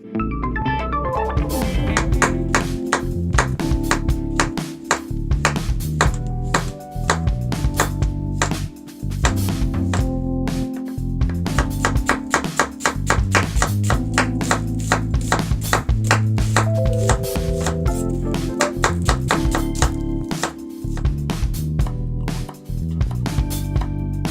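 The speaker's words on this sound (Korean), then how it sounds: "각종 야채는 3mm 크기로 채 썰어주세요." A kitchen knife cuts assorted vegetables into thin 3 mm strips on a board, giving fast, steady tapping chops that run throughout under loud background music.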